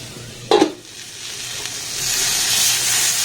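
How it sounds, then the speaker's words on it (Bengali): Capsicum and mixed vegetables stir-frying for fried rice, a sharp scrape of the spatula near the start followed by a steady, growing sizzle and hiss from the hot pan with no talking. "এটাকে আমি আবারও 2 থেকে 3 মিনিট সময় দিয়ে একটু নাড়াচাড়া করে ভেজে নেব"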